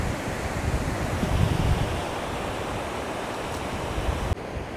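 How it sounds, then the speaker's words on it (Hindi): Ocean waves roll in on a Moroccan beach, a broad, continuous wash of surf mixed with gusty wind buffeting the microphone. There is a slight swell in the middle and a sudden bump near the end. "ये देखें, ये समंदर है"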